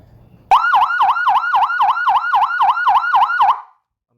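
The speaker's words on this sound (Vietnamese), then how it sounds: "Khi mà chúng ta bật lên remote nó sẽ sáng và âm thanh là còi hú sẽ phát ra" An ambulance siren from an AS920-C200TT wireless amplifier siren set starts abruptly and wails in rapid, evenly repeated up-and-down sweeps for about three seconds. It is loud and close, then cuts off cleanly.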